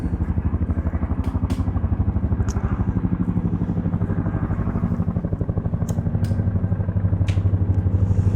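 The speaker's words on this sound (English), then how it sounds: "That'll be the helicopter" A helicopter flies overhead, its rotor beating out a rapid, even low thud that stays loud and steady throughout, with a few faint clicks above it and no talking.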